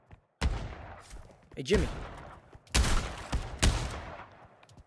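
Gunfire in the VR shooter game Pavlov, with several loud, sharp shots cracking out at close range amid scattered impacts, and someone talks briefly between the bursts.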